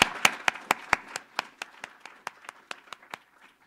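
A small audience at a roundtable gives a brief round of applause, a few sharp distinct claps close by that quickly thin out and fade.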